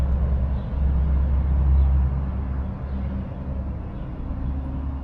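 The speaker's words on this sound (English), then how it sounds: "you could probably hear the cars outside." Traffic on the road outside a room, a steady low rumble of cars passing by that rises and falls slightly without any distinct horns or voices, muffled as if heard through walls.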